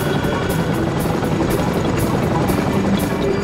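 A Chinook helicopter loaded with troops, food, ammo and supplies flies with a loud, close, continuous rotor thump and engine roar beating in a fast, even rhythm.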